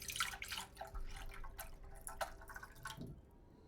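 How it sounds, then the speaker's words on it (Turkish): Water being poured, heard as a faint, close trickle and splashing for several seconds that fades out near the end. "Suyumuzu hemen koyalım."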